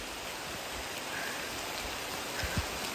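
Heavy rain pours down in a forest in Sikkim, a dense, steady hiss of rainfall with a few louder drops and low thumps near the end, no voices.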